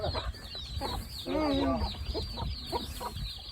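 Hens cluck in short bursts close by, with a louder squawking cackle midway, over a busy outdoor background.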